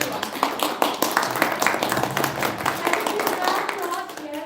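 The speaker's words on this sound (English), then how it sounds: "A round of applause, everyone." An audience at a live-streamed show claps in scattered, uneven bursts, with people talking over and between the claps throughout.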